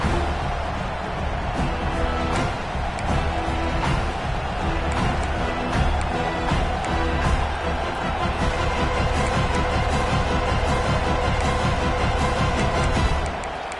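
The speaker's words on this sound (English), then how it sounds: "This crowd bringing an ear-splitting welcome to their visitors." A large stadium crowd at a college football game roars continuously in a dense, loud wash of cheering and noise that holds steady for the whole stretch.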